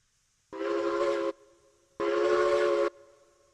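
A steam locomotive in the railroad game Railroads Online gives two loud, clear whistle blasts, each lasting about a second, separated by a short pause. The locomotive idles quietly between them, and no voices are heard.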